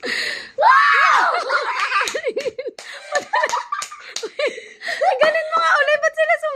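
Guests at a 70th birthday party let out loud excited screams and laughter, with a sharp burst near the start followed by choppy bursts of giggling, shrieks and chatter.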